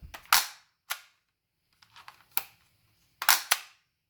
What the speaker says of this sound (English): so that doesn't prime the mag, but it does open up this dust cover